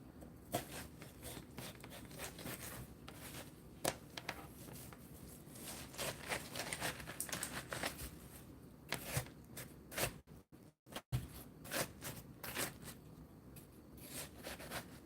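A knife cuts up a yellow watermelon in a kitchen, with scattered crisp slicing strokes, crunches and soft patter of rind and flesh, close and fairly quiet, with brief pauses between cuts.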